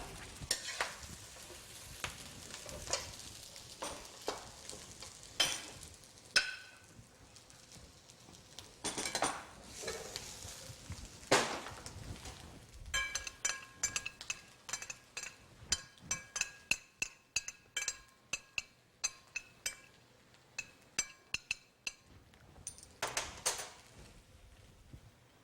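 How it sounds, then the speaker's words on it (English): Yangzhou fried rice is plated, with close clinks and taps of a metal spoon against dishes, scattered at first and then in a quick run of rapid chinks, over a soft background hiss. "at this point, I like to plate the fried rice"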